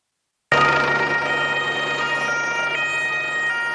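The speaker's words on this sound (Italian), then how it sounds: "Le sirene squarciano il silenzio della notte di Palermo" Sirens wail at night over Palermo during a police operation, a steady loud continuous tone with harmonic bands that holds from its abrupt start to the end, with no talk.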